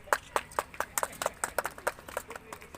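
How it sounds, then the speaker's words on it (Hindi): Steady rhythmic hand clapping at a BJP political gathering where new members join the party. Crisp claps arrive evenly, about four per second, moderately faint and somewhat distant. "जोरदार ताली बजा।"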